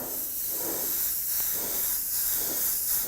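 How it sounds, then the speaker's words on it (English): Steady bright hiss of sprayed air onto a painted surface, running continuously and fairly close, swelling and easing in soft pulses. "going to spray just some air on there"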